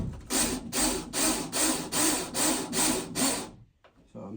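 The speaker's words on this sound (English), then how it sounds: "but we can use our drill" A drill drives a screw into the wood of a barn door in about eight even, rhythmic bursts. Each burst is close and gritty, followed by a pause and a few faint clicks.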